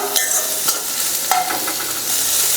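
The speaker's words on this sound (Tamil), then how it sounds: "வெங்காயம் வந்து கொஞ்சம் வதங்கட்டுங்க." Onions sizzle steadily in hot oil in a home kitchen pan while a spoon stirs them, producing a continuous close hiss broken by a few sharp scraping strokes.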